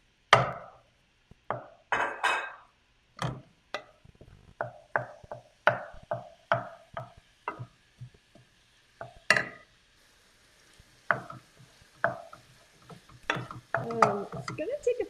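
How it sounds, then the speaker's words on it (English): Pork for mapo tofu cooking in oil over medium-high heat, with repeated sharp scraping and stirring strokes from a spatula breaking up the meat, and quiet sizzle between them, close and fairly quiet, no talking. "Brown this pork."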